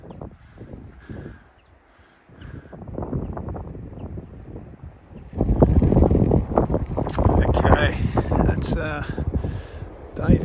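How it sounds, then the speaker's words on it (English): Strong wind gusts buffet the microphone at West Cape Howe Shelter on the Bibbulmun Track in September, a steady roar that swells louder midway through, with a person talking over it. "the wind's coming from behind the shelter, so it's not too bad"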